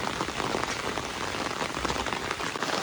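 Heavy monsoon rain pours down over a Konkan village, a loud, dense and unbroken hiss of drops drumming on surfaces, with no voices.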